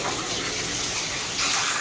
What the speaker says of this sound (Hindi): पानी लीक मतलब फुल ऑन है